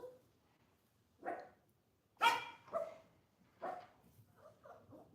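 A small dog barks at home to guard the house, giving a few short, soft boofs spaced apart with pauses between, moderately close in a quiet room.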